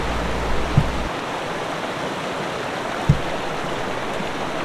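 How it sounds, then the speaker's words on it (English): A creek in Yosemite flows with a steady, full rushing hiss that holds constant throughout, with a couple of soft knocks near the listener. "a creek came into view as I turned the corner"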